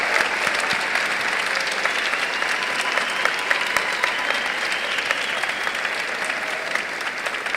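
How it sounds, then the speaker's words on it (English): A crowd applauds graduating students at the Salem High School class of 2016 graduation, sustained even clapping from a large audience that carries on steadily throughout. "Please join me in a round of applause for these amazing students."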